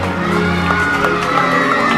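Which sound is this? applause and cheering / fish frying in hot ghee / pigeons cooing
applause and cheering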